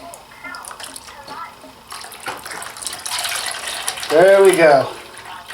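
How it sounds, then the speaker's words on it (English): Engine coolant draining from a Suzuki RF900 motorcycle once the radiator cap is opened, a soft trickle and splash that builds into a steadier pour, with mechanical clicks near the start and someone speaking briefly near the end. "while the coolant is still draining"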